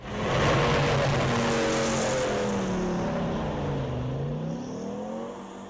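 A repaired armored military vehicle from a Kharkiv tank plant drives at around 25–35 km/h, its loud engine roaring and whining steadily close by, with pitch rising and falling as it maneuvers.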